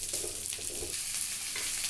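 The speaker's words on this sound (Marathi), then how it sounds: "हे 3 उभे चिरून घेतलेले कांदे आहेत ते मी आता ह्याच्यामध्ये फ्राय करणार आहे" Three sliced onions frying in a tablespoon of oil give a continuous close sizzle with soft stirring scrapes, steady and without voices.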